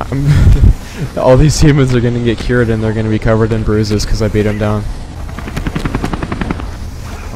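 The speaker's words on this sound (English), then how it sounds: "That was a helicopter if I've ever seen one." A helicopter chops loudly in a Spider-Man 3 video game, its rotor pulsing rhythmically beneath someone talking over the gameplay.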